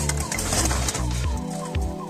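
Pigeons coo repeatedly close by in a loft, several overlapping low throaty calls in a steady rhythm.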